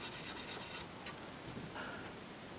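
Fine 4/0 steel wool rubbing down a shellac finish on an antique pie-crust table, a faint, steady scratchy hiss with soft strokes close by and no talk.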